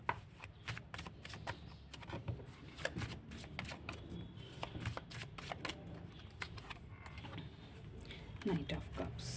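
Tarot cards being shuffled by hand, a long run of quick, crisp riffles and flicks close up, repeating irregularly over nine seconds with faint background hum.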